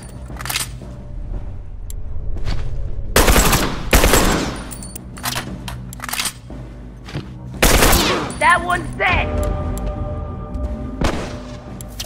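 Gunfire rattles through a video game shootout, bursts of automatic fire and loud single shots punching in close, with people shouting callouts over the action.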